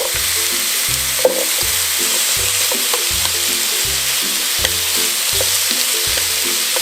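Pork belly and garlic fry in a pan with a steady, bright sizzling hiss that runs throughout, accompanied by a repeating background melody and a few faint clicks.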